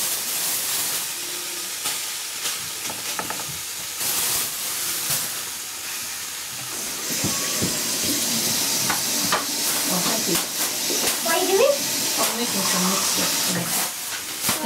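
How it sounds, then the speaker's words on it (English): Mixed minced meat dropped into a hot pan for samosa filling, giving a continuous hiss and sizzle that swells partway through, with stirring scrapes and a voice talking over it. "to this I'm going to add some minced meat. This is a mixed minced meat which I'm just going to add"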